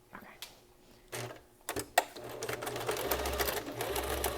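A sewing machine starts with a few clicks and thumps, then runs a zigzag stitch in a steady, rapid whirring chatter, quiet and close.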